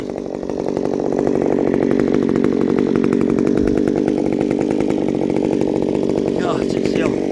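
A ported Stihl MS194T chainsaw cuts through solid, dry hardwood, its engine held at a loud, steady high-revving whine for the whole stretch with no pauses.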